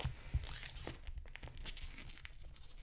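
Plastic packaging around a watercolor journal being torn open, with several close, crinkly rips and rustles over a few seconds and no talking.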